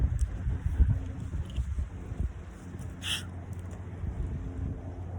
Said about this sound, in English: It's getting cold and windy.